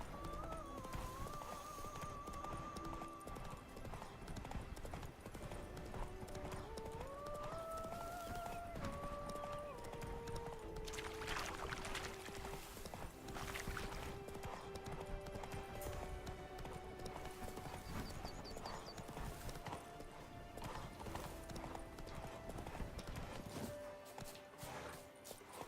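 A horse's hooves clip-clop steadily at a riding pace in The Witcher 3, with a melodic music score playing prominently over the rhythmic hoofbeats.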